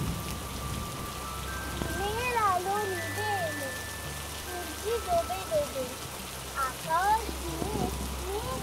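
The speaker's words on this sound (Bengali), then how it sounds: "ফেরার সময় বেশ কালো মেঘ করে বৃষ্টি এলো।" Steady rain patters on a surface under dark clouds on a launch trip through the Sundarbans, a continuous close hiss with a faint held tone and several rising, meow-like cries scattered over it.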